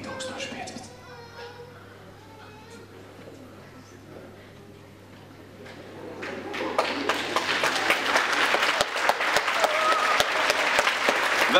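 Audience at the Rēzekne Prince and Princess 2015 event breaks into loud, dense applause that swells midway and keeps going, following a stretch of a voice speaking over a quieter hall.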